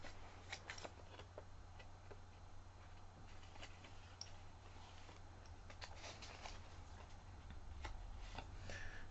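A deck of cards is shuffled and drawn during an intuition exercise, giving faint, quiet riffling with scattered sharp ticks and flicks over a low steady hum.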